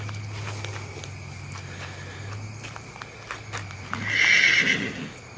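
Miniature donkeys on a farm, with hoof clip-clops and scattered footsteps under a low steady hum, then a loud braying call rising near the end.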